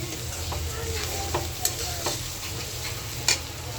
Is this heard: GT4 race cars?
no